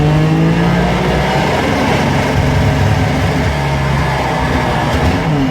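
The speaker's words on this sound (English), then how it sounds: "Really likes to rev." Car engine revving hard and close, a steady loud roar that holds its pitch with slight swells, heard alone with no talk.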